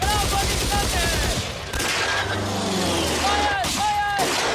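Bursts of gunfire crackle in a war battle scene, dense rapid shots at the start and again near the end, mixed with engine drone, shouting voices and whistling tones.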